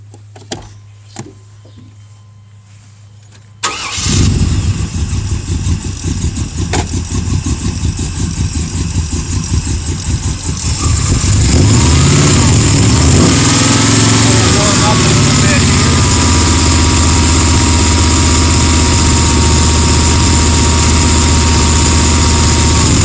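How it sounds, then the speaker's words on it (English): A Blueprint 383 stroker V8 with automatic transmission in a 1994 Chevrolet K1500 pickup cranks, fires and settles into a loud, steady, rumbling idle that rises slightly later on, heard up close after a few quiet clicks. "Let's fire it up."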